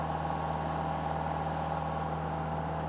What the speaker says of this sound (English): throttle up the engine to make sure that your air compressor has enough RPMs